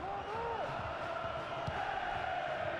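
Stadium crowd in the EA FC 24 football game, a steady roar of many voices with rising cheers and whoops, filling the background throughout.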